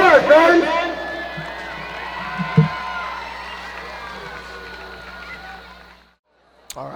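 High school football fans cheer in the stands at a Walpole home game, a loud burst at first that fades into murmuring crowd noise, then quiet. An announcer talks over the start.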